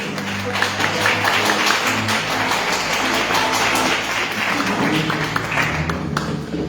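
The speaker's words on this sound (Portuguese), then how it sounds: "Dê uma linda salva de palmas ao Senhor Jesus." Applause from a church congregation during a family service, sustained, fairly loud clapping in a reverberant room with a low hum beneath it and some scattered louder claps.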